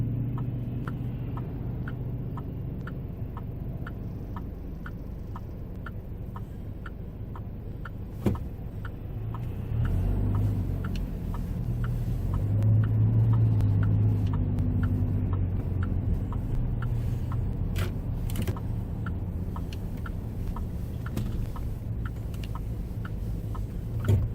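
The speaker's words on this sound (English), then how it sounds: "Traffic's picking up a little bit." Road traffic heard from inside a car in town, a steady low rumble of engines and tyres with a regular ticking like a turn signal, swelling as vehicles pass around the middle.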